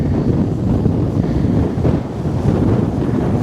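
Wind buffets a camera microphone outdoors during a V-Coptor drone flight test, a steady low rumbling roar that fills the whole stretch with brief dips and gusts.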